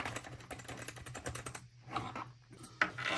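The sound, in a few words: typing on new computer keyboard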